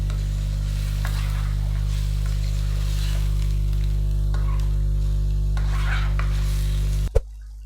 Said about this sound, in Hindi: बकरे की 1 किलो कलेजी ली है हमने। अभी इसको भून लेते हैं